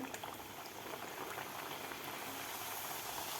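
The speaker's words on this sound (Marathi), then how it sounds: "हे सुद्धा आपल्याला गोल्डन कलर होईपर्यंत आपल्याला हे तळून घ्यायचे आहे" Kadakani, crisp semolina and flour pastries made for a goddess offering, fry in hot oil over a medium flame, giving a steady, dense bubbling sizzle close by, soft but continuous with no talk.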